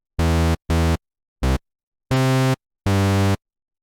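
Default patch of a free Juno 60 emulation synth plugin: five loud, buzzy sustained notes with abrupt starts and stops, separated by silent gaps, harsh and brassy with no voices.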